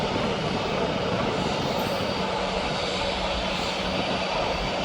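A Jet2.com airliner's jet engines at Birmingham airport give a steady, broad roar that holds at a constant level throughout, heard from a moderate distance with no distinct events.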